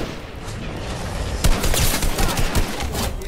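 Rapid bursts of gunfire from the Doom weapon in the video game Fortnite, loud and close, jumping up sharply partway through and then continuing as dense, crackling volleys.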